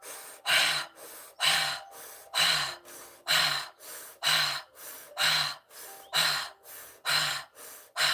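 A deep breathing exercise with strong, even breaths in a steady rhythm, each one a loud, close, rushing whoosh about every 0.6 seconds, repeated a dozen times with no talk.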